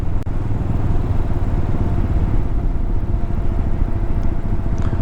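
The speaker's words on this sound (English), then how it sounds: "Had to get the bike fully warmed up to idle correctly." A warmed-up motorcycle idles close by at the Isle of Man TT, a steady low throbbing rumble running unbroken and fairly loud.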